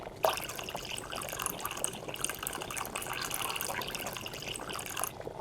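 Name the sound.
water poured as potion base, Potion Craft video game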